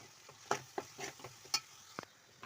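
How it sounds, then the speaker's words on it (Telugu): Raw prawns with gongura leaves and chilli powder are stirred in a pan, giving a handful of separate spoon scrapes and clinks at uneven intervals over a soft background, with no talk. "తగినంత కారం వేసుకొని కలుపుకున్నాను"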